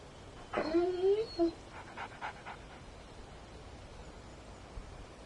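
A dog in the video game Alan Wake whimpers and whines briefly near the start, followed by a few soft panting breaths, then fades into quiet background hiss.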